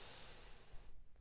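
One slow, airy exhalation from lower abdominal breathing, close and soft, a steady breathy rush that fades at the end.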